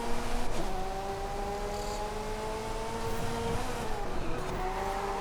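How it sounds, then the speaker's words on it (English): Ferrari F40 drifting in Forza Horizon 5, a steady engine drone with sliding, rising pitch lines and tire noise throughout, loud and continuous with no talking. "If you always wanted to drift in an F40, this is your chance."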